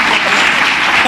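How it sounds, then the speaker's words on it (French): Dense, steady applause from a crowd, loud and continuous with no pauses. "on veut entendre de l'applaudissement"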